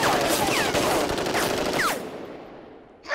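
A fully automatic machine gun fires during SAS-style training, with loud, rapid bursts over roughly two seconds. Some rounds whine past like ricochets before the firing stops and the scene falls quiet.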